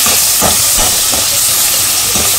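Chopped onion sizzling in a hot pan for spiced okra, a loud, continuous close-up hiss with faint crackles throughout.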